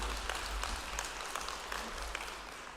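Steady applause from the audience at a jobs and skills summit in KwaZulu-Natal, a dense continuous patter filling the room at moderate level, with no voices over it.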